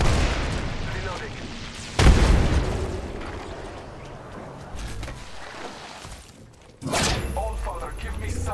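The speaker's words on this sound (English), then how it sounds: "Frag grenade set." Frag grenade blasts in a shooter video game, two heavy booming bursts several seconds apart, standing out from a steady bed of game sound and voices.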